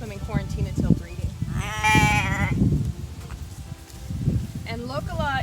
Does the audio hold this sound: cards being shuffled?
no